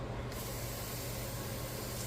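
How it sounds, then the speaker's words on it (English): Spraying water rinses out a container, a loud, close, steady hiss that runs without a break for about two seconds. "I'm going to go rinse this out."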